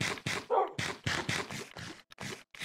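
A tamed dog in the Minecraft video game whimpers and yips in a quick series of short, close, fairly loud bursts, with no talking over them.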